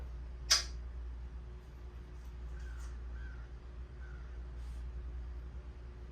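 An African grey parrot lets out one sharp, loud squawk near the start, followed by a few faint, soft whistled notes over quiet background hum.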